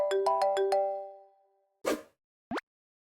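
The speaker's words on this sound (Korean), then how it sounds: "전화가 와요." A phone rings with a short bright melodic jingle of about five quick notes that fade out, then two brief knocks or taps follow in near silence.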